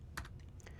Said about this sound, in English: I'm going to type the same command again